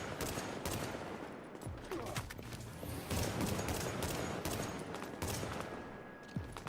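Rhino Special fire in The Division: repeated gunshots crack in quick bursts at a moderate distance, with short pauses between volleys and a busy combat din underneath.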